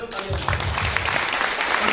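An audience at a Modicare meeting applauds, a dense, steady wash of clapping that lasts about two seconds while a voice speaks over it.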